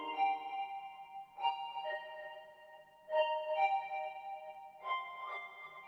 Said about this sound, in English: The patch is called BL Space Music Flute